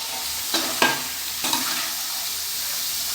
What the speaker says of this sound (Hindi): हम मज़ीद इसको 5 से 6 मिनट फ्राई करेंगे और हमारी फिर फ्रेंच फ्राइज रेडी होगी।